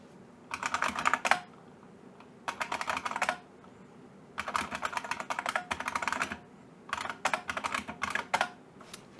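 Bursts of typing on a computer keyboard as terminal commands are entered while setting up a self-hosted certificate authority, four quick clattering runs separated by short pauses, close and fairly quiet with no talk.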